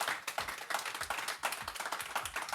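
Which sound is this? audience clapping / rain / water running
audience clapping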